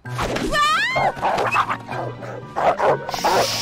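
A cartoon dog yips, whimpers and barks in a rising, excited string of high, squeaky calls, close and loud, with a spoken voice underneath in places.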